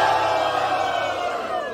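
A rap battle crowd roars and cheers for the rapper Maria. The sound is a dense, steady wall of many shouting voices, loud and close, holding level for nearly two seconds.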